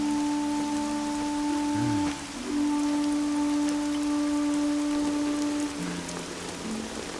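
Heavy rain falls in a steady broad wash, loud and close, with sustained tonal music layered over it.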